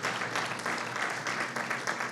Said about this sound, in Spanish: Diga amén y denle un aplauso al Señor,